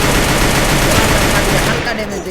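Dense, loud automatic gunfire rattles without pause in a battle royale shooter match, with a voice partly mixed in under the shots.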